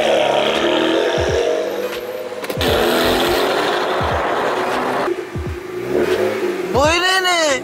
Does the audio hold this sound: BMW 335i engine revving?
yes